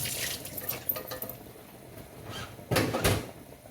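Tap water running into a sink while carrot greens are washed, a steady splashing stream with louder gushes and handling noises near the end.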